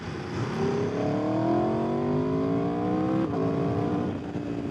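An Aprilia RSV4 Factory motorcycle engine revs up in a smooth, rising climb, holding a loud, close wail for a few seconds before easing slightly at the end.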